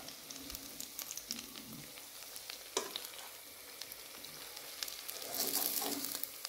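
Chicken potato bread rolls fry in hot oil, a soft crackling sizzle dotted with small pops and a sharper clatter, swelling slightly near the end. It is faint and unaccompanied by speech.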